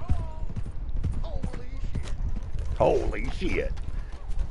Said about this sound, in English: It's not easy to navigate a horse in first person.